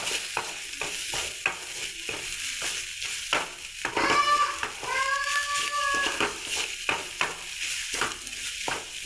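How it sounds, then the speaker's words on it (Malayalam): Jackfruit fries in a pan while being stirred, a constant soft sizzle broken by a rhythmic series of spatula scrapes and taps, with a brief squeaky tone partway through. "ഇങ്ങനെ നന്നായിട്ട് യോജിപ്പിക്കുക നമ്മൾ ഇങ്ങനെയാണ് ചക്ക വറുത്തത്"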